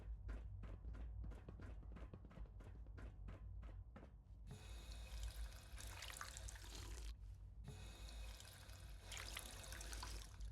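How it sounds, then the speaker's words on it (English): Water being poured or sipped in Fallout 4: a run of quick clicks, then a steady trickle of running liquid, briefly pausing before flowing again, close and moderately quiet. "Oh, we'll have a drink of water."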